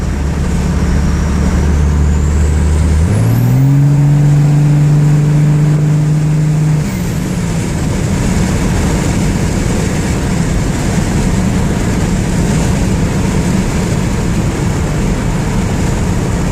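A Cummins 24-valve diesel pickup with an HX35 turbo revs hard, its loud close engine note climbing and holding for a few seconds with a rising high turbo whistle, then dropping back to a rough idle.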